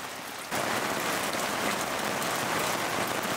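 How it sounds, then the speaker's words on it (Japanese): Heavy rain at a lakeside campsite beside a camper van with its awning out starts suddenly and then pours steadily, a dense loud hiss of drops drumming on surfaces with no voices. "雨がすごい。"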